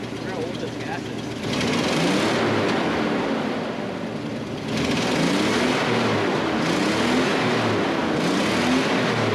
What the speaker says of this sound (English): figure out what's wrong with the motor. See which one's misfiring for sure.